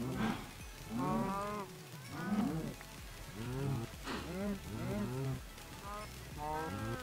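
Cows moo in the Minecraft video game, a series of repeated lowing calls in quick succession, fairly close and moderately loud.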